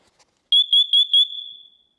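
Smoke and carbon monoxide detector alarm sounding a shrill electronic tone in four quick pulses, then a sustained note that fades out, close and loud with no talk.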